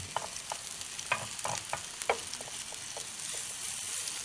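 Food frying in a pan on a cooking show, a steady close sizzle with crackling pops and occasional spoon scraping, with no voices.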